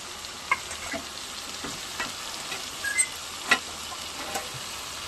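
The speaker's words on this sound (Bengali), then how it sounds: "কলমি শাকটা অনেকটা ভাজা হয়ে গেছে।" Water spinach (kalmi shak) fries in a pan with a soft, continuous sizzle and a few light stirring clicks and pops, with no talking.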